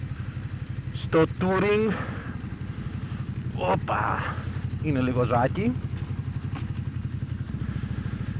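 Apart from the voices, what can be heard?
Ducati Desert X motorcycle engine and stock exhaust while riding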